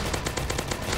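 Rapid automatic gunfire from a Roblox zombie apocalypse game, a steady burst of evenly spaced shots repeating about every eighth of a second, loud and continuous with no talk over it.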